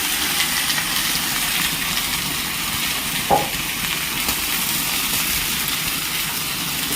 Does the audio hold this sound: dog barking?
no